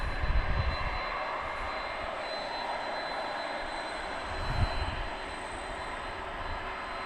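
An 11-year-old Boeing 767-300ER at DFW Airport after dark gives a steady, broad jet roar that holds evenly throughout, with a slight swell near the end and no voices.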